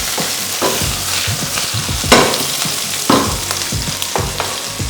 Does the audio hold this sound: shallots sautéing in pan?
yes